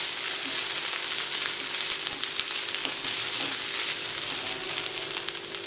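Green chillies sizzling in hot oil with onions in a pan for upma, a steady crackling fry with occasional stirring scrapes, close and unbroken, with no talk.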